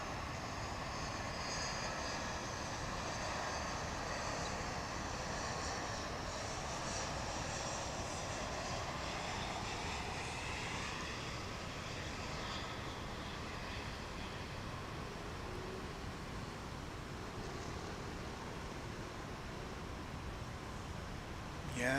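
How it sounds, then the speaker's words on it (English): An American Airlines jet in Heritage PSA livery at DFW International Airport, a steady distant engine roar and whine that holds level throughout the stretch, no speech heard. "Yes, it's the American Airlines Heritage PSA livery."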